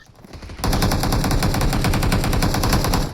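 Automatic gunfire from an enemy squad in a video game fight at Yasnaya Polyana erupts suddenly and rattles on in a rapid, loud, sustained burst of overlapping shots.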